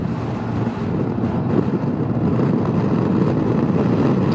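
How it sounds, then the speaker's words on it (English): Strong wind roars steadily across the microphone, a loud, continuous low rushing buffet with no pauses or voices. "So the wind is blowing in from the northwest right now at about 25."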